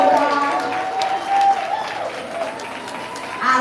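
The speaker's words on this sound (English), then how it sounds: "Can we clap it up for all the poets that have came up and blazed so far?" An audience at a live poetry show in Phoenix applauds in steady, dense clapping with scattered cheers, filling the room from start to end.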